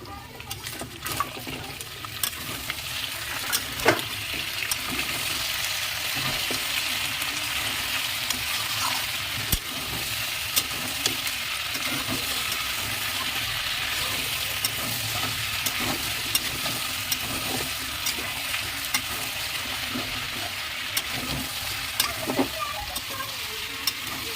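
Chicken pieces, covered for about ten minutes, fry in a pan under constant stirring, a dense steady sizzle broken by repeated scraping knocks of the spatula.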